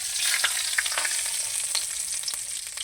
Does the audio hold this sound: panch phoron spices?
yes